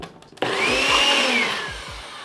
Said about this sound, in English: let's get it back on the blender blade and send it back on to blend for just another minute